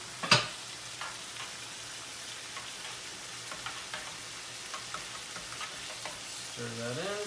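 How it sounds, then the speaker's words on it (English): Spoon stirring butter into grits in a pot, a faint, soft scraping with scattered light clicks against the pot over a low background hiss, with one sharper knock near the start. "Stir that in."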